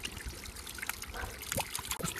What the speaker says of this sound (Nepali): सानो झर्ना छ यहाँ, त्यति ठुलो झर्ना नभए नि।